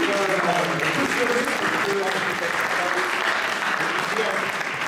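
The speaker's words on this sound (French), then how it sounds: "nous pouvons là applaudir bien fort" Sustained applause fills a hall throughout, dense and steady, with voices faintly mixed in as an audience claps loudly at a French-speaking gathering.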